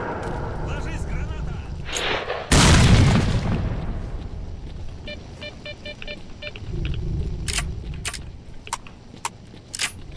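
A grenade goes off in S.T.A.L.K.E.R.: Shadow of Chernobyl with one sharp, loud blast that rumbles away, followed by metallic clinks and scattered gunshots while someone talks.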